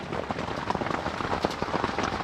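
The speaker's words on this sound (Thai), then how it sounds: "ฝนตกนะครับที่ทุ่งแสลงหลวงตอนนี้" Steady rain falls at a national park campsite in Thung Salaeng Luang around midnight, a dense continuous patter of drops on surfaces with scattered louder splashes, close and even throughout with no voices.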